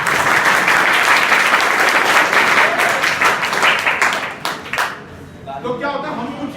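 Audience applause at a school adolescence education programme, a dense steady clapping from a crowd of students that thins and fades toward the end, with a few scattered claps left.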